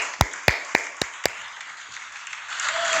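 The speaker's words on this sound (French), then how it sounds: "Applaudissez encore pour les célibataires." Five sharp claps in a steady rhythm ring out in a church, spaced about a quarter second apart, then give way to a low murmur of room noise.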